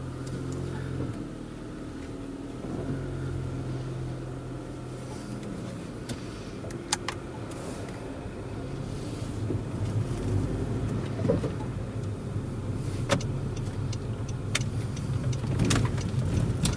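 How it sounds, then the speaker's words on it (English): A Honda Civic Si pulls away and drives, its engine a steady low hum that builds gradually over about seventeen seconds, with faint rattles and clicks inside the cabin and no talking. "here we are in the SI, so we'll go ahead and take it out for a drive"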